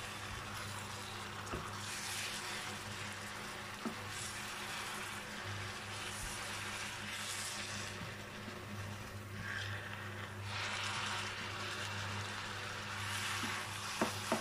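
Noodles and shrimp with Chinese cabbage hiss in a frying pan, a steady soft sizzle with faint stirring scrapes throughout, moderately quiet and with no voices.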